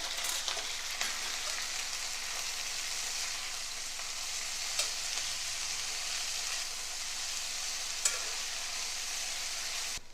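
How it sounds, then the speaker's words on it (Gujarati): Vasoti flower greens fry with garlic in a pan, giving a steady, close sizzle with a few sharp clicks as they are stirred, with no voices. "લસણ સંતળાઈ જાય એટલે વાસોટીના ફૂલને આપણે તેની સાથે મિક્સ કરી લેવાનું છે."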